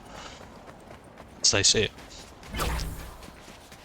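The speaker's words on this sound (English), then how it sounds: "Footsteps, but that's the bot" In Fortnite Zero Build, a bot player's footsteps come as short, quick clusters of thuds, close by and brief, with someone talking over them.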